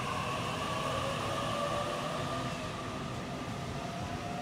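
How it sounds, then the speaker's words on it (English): A Sydney Trains Waratah electric train on the T9 Northern Line at Eastwood station, a steady rushing rail hum with faint whine heard from the platform, continuous and fairly distant throughout. "Platform 3 at Eastwood would be your 15:30 Sydney Trains T9 Northern Line service from Gordon to Hornsby via Epping"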